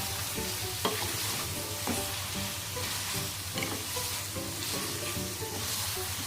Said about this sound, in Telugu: ఈ మసాలా అంతా బాగా వేయించుకోవాలి చికెన్కి పట్టేలాగా